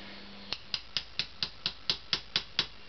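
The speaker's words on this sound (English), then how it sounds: "calibration hammer works very well" A calibration hammer taps a part into place on a CX500C carburetor: ten crisp, evenly spaced metallic taps, close and clear, with near silence between them.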